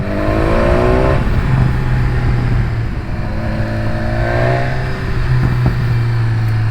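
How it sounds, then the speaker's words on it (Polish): A 2019 BMW S1000XR motorcycle accelerates with rising engine tones that climb through gears, close and loud, with sharp exhaust pops and crackles scattered between the revs. "jakie tu są strzały z wydechu"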